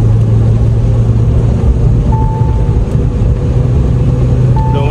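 Tuned 2023 Mahindra Thar accelerating hard on the Delhi–Mumbai Expressway, with a loud, steady engine drone and road rumble throughout and a brief rising whine near the middle.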